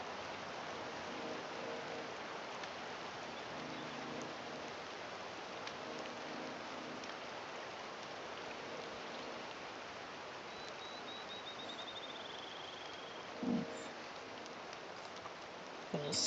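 In-game rain from Disney Dreamlight Valley pours steadily in an unbroken hiss of drops. A short thud sounds near the end, and a faint high chirp slides across the middle.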